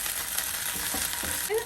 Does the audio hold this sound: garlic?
yes